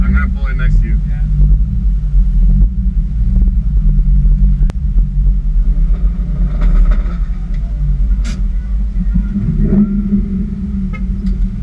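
A car engine rumbles low and steady as it pulls into a spot at a car meet, a continuous near drone with faint tones over it, while people talk nearby.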